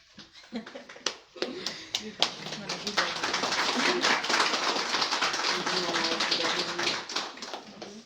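Applause from a lecture audience starts with a few scattered claps, then swells into dense, sustained clapping that fills the room, with voices talking over it.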